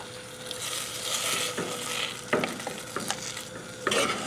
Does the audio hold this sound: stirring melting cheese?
yes